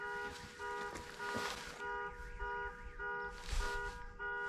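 A car alarm wails at a distance in the winter mountains, its tone sweeping up and down in repeated cycles over faint outdoor background noise.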